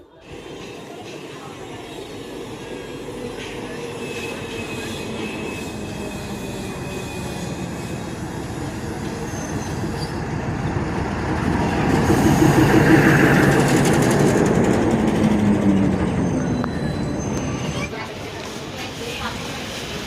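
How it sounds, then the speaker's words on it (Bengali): The Radhikapur-Siliguri DEMU intercity train pulls out of Dalkhola railway station with a steady, rising engine drone and wheel rumble that swells to a peak midway, then eases. People talk faintly throughout. "তো আমাদের ট্রেন ছেড়ে দিল ডালখোলা রেলওয়ে স্টেশন থেকে"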